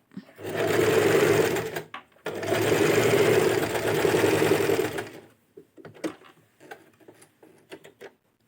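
A sewing machine stitches fabric piping made from waste material in two steady runs of close whirring, pausing briefly between them, then gives way to scattered soft handling clicks and taps.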